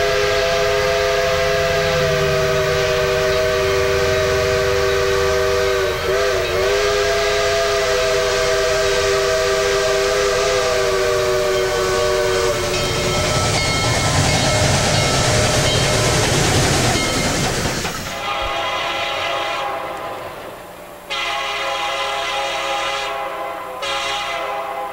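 A Virginia Railway Express commuter train in Northern Virginia passes loudly nearby, with a long sustained horn blast over the rumble of the cars, then the horn cuts off and the roar of the wheels continues.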